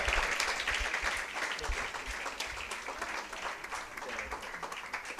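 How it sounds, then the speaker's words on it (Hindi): Warm applause from a church congregation in India welcoming a pastor, a dense, steady wash of many hands clapping that continues for several seconds at moderate volume, with no voice over it. "मैं चाहता हूँ कि हम सभी उनको ताली के साथ, ताली बजाकर उनको आमंत्रित करें इस जगह पर।"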